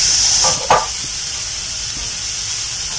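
Mushrooms stirred into sizzling butter mushroom masala in a frying pan give off a steady, close frying hiss, with one sharp scrape and splatter of stirring early on.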